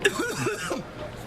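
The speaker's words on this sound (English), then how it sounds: "It's just a cough." A short throaty cough and throat-clearing, close and clear, in a few rough bursts that fade into quiet.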